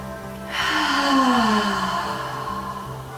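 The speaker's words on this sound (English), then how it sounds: "Big breath in through the nose and let it out through the mouth" Deep, slow breath drawn in through the nose and released through the mouth during a yoga breathing exercise, a soft airy inhale swelling into a long, steady exhale, close and alone.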